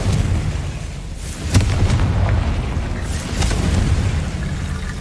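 A Confringo spell blast in the Hogwarts Legacy video game booms out over a steady, dense game backdrop, with a sharp burst near the middle and another around three seconds in.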